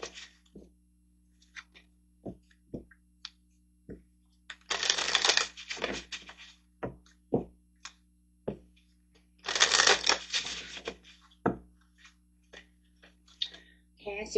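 Portal oracle cards being shuffled up close, two dense riffling bursts separated by scattered taps and card clicks, quiet and dry.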